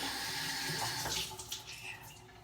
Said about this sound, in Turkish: Şimdi yüzümüzü yıkalım.